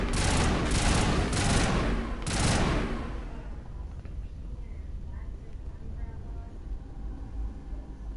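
A rifle in the sci-fi shooter Mass Effect lets off several loud bursts of gunfire early on, close and heavy. Then it stops, leaving a low steady background hum.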